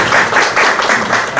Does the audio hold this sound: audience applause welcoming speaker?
yes